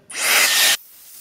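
A hair dryer on its high setting starts abruptly and blows a loud, steady rushing hiss for under a second, then cuts off to a faint background hum.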